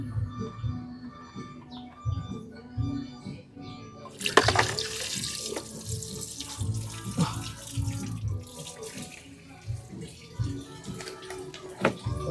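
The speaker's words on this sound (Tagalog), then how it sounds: "Lakas ng tubig." Strong water gushes and splashes while flushing coolant through the radiator and engine block of a 1996 Mitsubishi Lancer GLi, a loud continuous rushing with sputtering bursts, under brief low voices.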